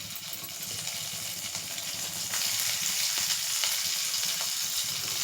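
Spices and onion fry in a pressure cooker pan for egg biryani, making a soft, steady sizzle that grows slightly louder partway through.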